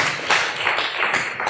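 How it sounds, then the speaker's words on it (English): An audience at a digital marketing conference applauds a speaker, giving a short burst of fairly close clapping that swells and fades unevenly, with no one talking. "Round of applause for James."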